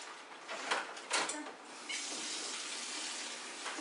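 Tap water runs steadily into a kitchen sink during washing up, a broad continuous hiss with a few brief louder surges, heard close without talk.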